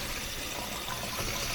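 Tap water runs steadily in a kitchen sink while cod and sea bass are being washed, a close, continuous hissing gush with no pauses.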